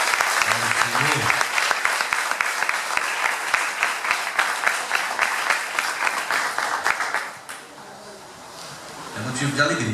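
A church congregation claps together in steady, dense applause for about seven seconds, then the clapping drops away to quieter room noise before a few claps return at the end.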